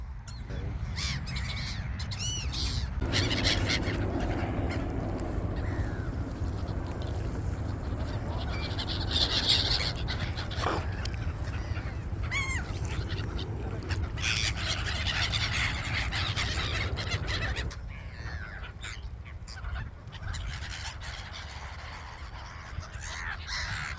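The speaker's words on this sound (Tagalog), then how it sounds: "Ang mga ibon." Crows cawing and geese honking together in a noisy outdoor flock, with squeals and overlapping calls running continuously at close range, plus faint speech in the background.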